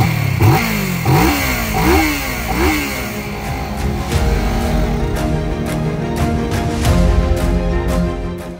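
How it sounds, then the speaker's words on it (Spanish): A water-powered motorcycle running on an electrolysis system starts up and revs, with several rising throttle blips early on before settling into a loud, steady, close idle with clattering mechanical texture. "en unos segundos más tarde ya podemos arrancar el motor"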